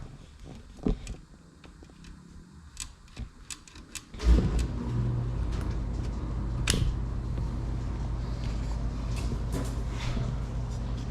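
A car engine starts abruptly after some clicks and handling noises, then idles and revs in a steady close drone while a newly installed throttle cable is checked.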